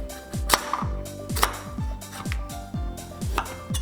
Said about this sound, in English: Cut the pumpkin into 5 mm thick slices.